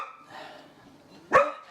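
A human voice imitates a dog's bark with a single sharp, loud woof after a stretch of faint background murmur.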